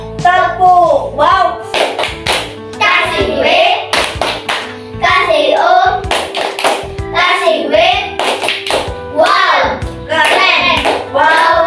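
A classroom of children claps in rhythmic bursts during a group cheer, sharp close hand claps alternating with a teacher and pupils chanting along.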